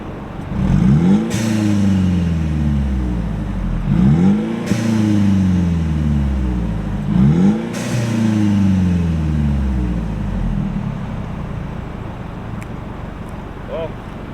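A Mercedes E300 with a QTP exhaust cutout open revs to 4,000 RPM three times, each loud rising roar dropping back before settling into a steady, throaty idle.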